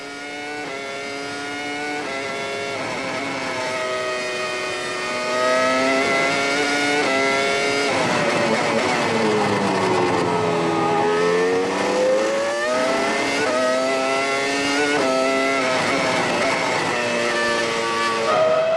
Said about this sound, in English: So Webber just passing Heidfeld for a position.